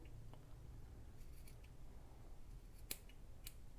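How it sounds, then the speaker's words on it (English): Scissors trimming the ends of an acorn tassel made as a junk journal embellishment, giving a few faint, quiet snips against a low background hum. "you can just trim off your ends to make it more even"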